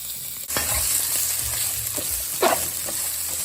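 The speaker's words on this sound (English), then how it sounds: "That will smell like onions cooking." Onions fry in a pan with a steady close sizzle, broken by a sharp knock and a few scraping stirs.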